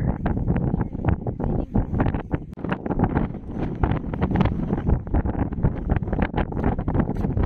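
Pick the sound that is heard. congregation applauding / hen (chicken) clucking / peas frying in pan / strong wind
strong wind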